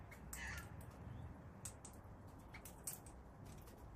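Wild rosellas feed in the Yarra Valley near Melbourne on a cool late-winter day, giving soft, scattered high chirps against quiet outdoor background noise.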